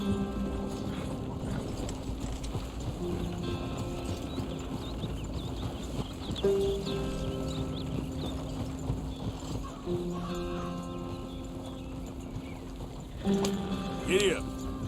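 Horse hooves clip-clop at a steady trot in the Red Dead Redemption 2 video game. Voices and game music run over them the whole time, and a short whinny-like sound comes near the end.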